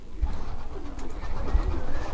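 Soft, low pigeon coos repeat close by, a steady murmuring burble with a couple of deeper notes and no talking.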